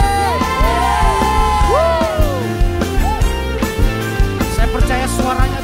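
A church congregation cheers and whoops over loud, ongoing worship music, with sustained crowd noise and occasional rising shouts.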